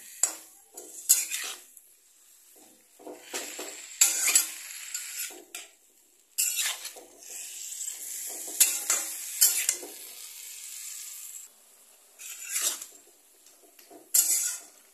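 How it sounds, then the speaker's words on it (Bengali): Fish curry with pumpkin stirred in a pan, giving bursts of scraping and clinking from a utensil against the pan at irregular intervals, fairly close, with quiet gaps between and no talk. "এটাকে একটু ভালো করে নেড়ে জল দিয়ে দেবো"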